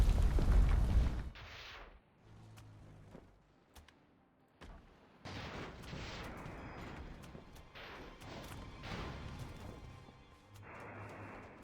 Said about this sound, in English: Oh, they're throwing grenades.